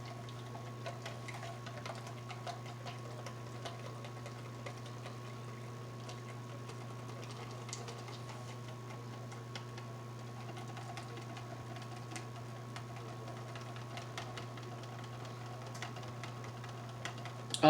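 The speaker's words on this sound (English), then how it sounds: "I'm just going to whisk this." A small whisk beats wet coffee cake batter in a bowl, a faint, steady run of soft rhythmic ticks over a constant low hum, with no talking.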